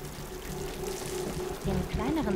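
Water flowing in the video game Horizon Forbidden West makes a steady, soft rushing stream throughout, with a voice briefly rising over it near the end.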